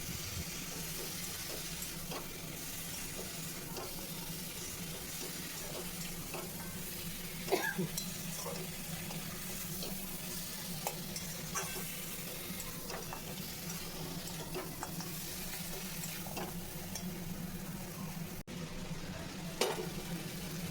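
Spice masala fries in a pan and gets stirred after salt goes in, with a steady low sizzle and occasional soft scrapes and taps running evenly throughout.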